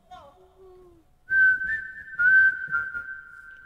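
A person whistles a clear, sustained tune up close, with a few brief speech-like tones just before it. The whistling itself starts after about a second and carries on, loud and alone.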